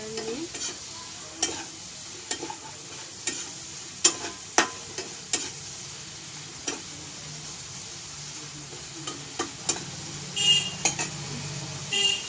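Prawns sizzle in a frying pan over a high gas flame while a utensil stirs them, giving a steady soft frying hiss broken by sharp scraping and tapping knocks against the pan at irregular intervals, close by.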